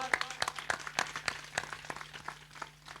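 Scattered hand claps from a church congregation, irregular and uneven, over a low steady hum.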